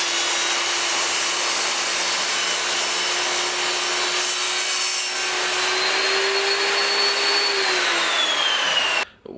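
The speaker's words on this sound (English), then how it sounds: "I just had to change my blade over on my table saw" A table saw trims the sides of an epoxy river table with a live edge. The loud, continuous whine of the blade cutting holds steady, its pitch rising near the end of the cut before it stops abruptly.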